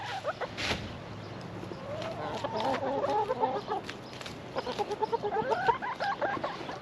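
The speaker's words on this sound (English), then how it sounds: "Happy chickens." Several chickens cluck and murmur close by in bursts, with soft rustling and a brief tap near the start, no talking.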